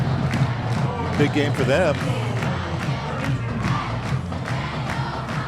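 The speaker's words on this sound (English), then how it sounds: "that cheering you hear is definitely not from the Rams fans" Eagles fans cheer and shout in the stands at a high school football game, a loud crowd roar rising and falling with a few whoops, while commentators talk over it.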